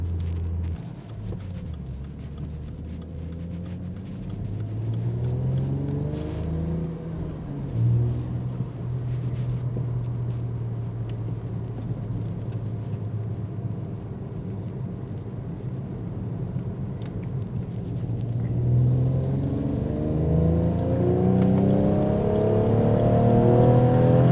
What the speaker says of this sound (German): Deswegen machen wir uns jetzt das Auto schön schmutzig auf der Autobahn